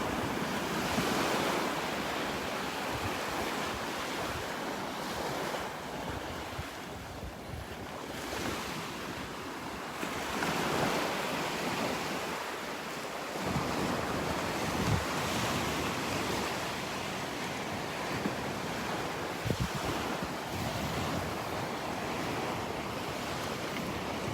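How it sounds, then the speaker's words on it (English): Surf rolls onto the shore at Delnor-Wiggins beach on a windy morning, a continuous loud wash of breaking waves with gusty wind buffeting the microphone throughout. "I think the waves might be calming down a little bit here, just a little bit."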